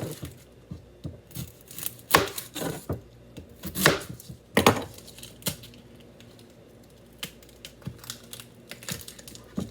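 An onion is chopped with a knife on a cutting board in a home kitchen, a run of quick, irregular, close-up taps with a few louder thuds.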